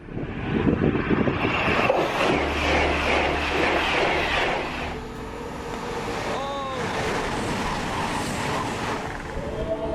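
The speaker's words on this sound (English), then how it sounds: "The roar of the train causes the flock of sheep to panic" A loud, continuous rushing roar of a train passing at speed, with rumbling low tones and a brief rising squeal partway through.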